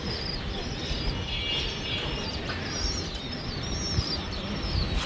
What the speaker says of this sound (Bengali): এই যে কিছু কবুতর ছাড়লাম